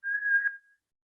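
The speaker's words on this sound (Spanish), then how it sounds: "Se oye como un silbido así." A pure, steady whistle-like tone, a single clean note held for about half a second, then briefly fading, heard alone against silence.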